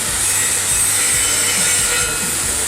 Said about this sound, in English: So I'm actually going to grind my start right here where I just stopped.